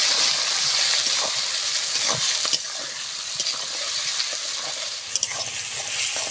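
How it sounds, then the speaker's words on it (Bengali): Chopped onion and tomato sizzle loudly in hot oil with bay leaf, whole cumin and a little salt, a constant close crackling hiss broken by occasional scraping stirs, with no voices. "পেঁয়াজ আর টমেটো ভাজা হয়ে গেছে"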